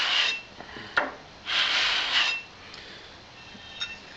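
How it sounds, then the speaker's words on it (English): A metal part from a table saw is rubbed across sandpaper on a flat surface in two close, raspy scraping strokes, each about a second long, separated by a brief knock. "finished it off with a bit of sandpaper on a nice flat surface like this. A couple of passes like that"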